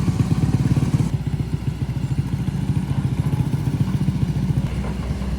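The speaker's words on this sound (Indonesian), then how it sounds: "kita lihat tuh motornya penuh dengan lumpur" Motorcycle riding a steep, muddy hill road in West Sumatra's Bukit Kampau area, its mud-caked engine giving a steady, loud mid-pitched chug with clattering and thumping throughout, heard close.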